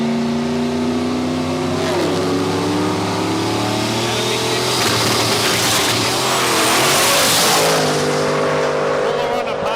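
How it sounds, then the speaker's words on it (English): Turbocharged LS-powered Gemini drag car making a quarter-mile pass at a raceway, its engine revving loud and climbing through gears with a rising whine, while a commentator talks over it. "Turbocharged LS engine."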